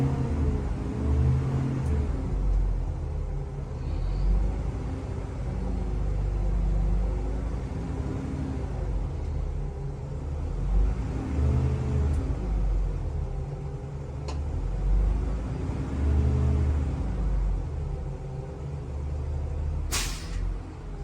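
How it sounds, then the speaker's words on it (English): A Blue Bird gasoline school bus idles with a steady low engine rumble while its air compressor builds pressure, a continuous drone with a short sharp hiss of air near the end. "Okay, the compressor tripped off."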